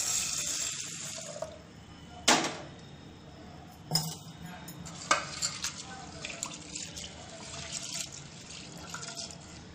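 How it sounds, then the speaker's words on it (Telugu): Toor dal being rinsed in a pressure cooker for a thotakura pappu: water sloshes and trickles steadily, with a few sharp clinks of grains and metal against the pot, close up and fairly quiet. "కందిపప్పు 2 గ్లాస్ వేసి కుక్కర్లో శుభ్రంగా కడుక్కోవాలి."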